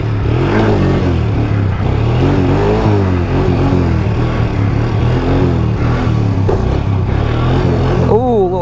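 A quad ATV engine runs close and loud on trails, its throttle swelling and easing in continuous revving, with a rider's voice partly heard over it.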